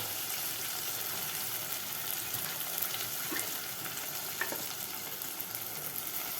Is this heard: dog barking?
no